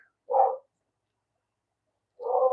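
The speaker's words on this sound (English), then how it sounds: "Dog's got to bark a little, man, you know? Dog's got to bark, barkity bark, bark." A dog barks indoors in a workshop, two separate loud, close bark bursts about two seconds apart with silence between them.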